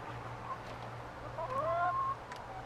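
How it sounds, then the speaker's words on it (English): Chickens cluck softly in a coop, a few brief chirping calls rising over a steady low hum, fairly faint and without talk. "We now have 13 chickens."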